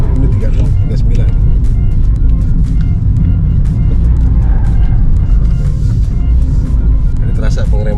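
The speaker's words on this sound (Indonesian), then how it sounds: "Kita mau coba slalom." Toyota Agya GR Sport small car slaloming on a closed circuit, heard from inside as a loud, steady engine and road rumble that continues throughout, with people talking over it.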